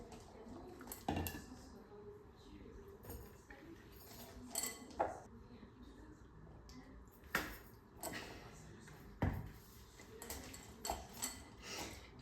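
A spoon or whisk stirs a vanilla ganache mixture into white chocolate in a bowl, making soft scraping with scattered sharp clinks against the bowl, fairly close and quiet, with no talk over it.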